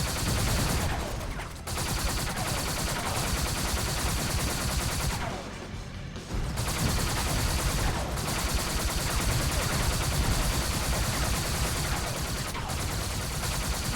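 Rapid automatic gunfire from a spy car's pop-out gun in SpyHunter 2, sustained bursts of loud clattering shots nearly nonstop, with two brief pauses between volleys.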